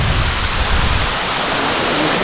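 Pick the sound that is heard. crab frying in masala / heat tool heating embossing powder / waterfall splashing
waterfall splashing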